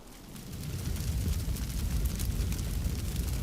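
A fire breaks out in The Sims 3 game, making a low, rumbling roar that swells after the first moment and then holds steady at moderate loudness.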